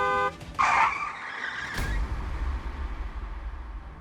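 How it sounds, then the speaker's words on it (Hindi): A car brakes hard and swerves with a loud, close tire squeal lasting about a second, then settles into a low rumbling engine and road noise, with no talking. "इसके पहले कि वो कार काव्या से टकराती, उसके ड्राइवर ने तुरंत ब्रेक लगाकर गाड़ी को दूसरी ओर घुमा दिया।"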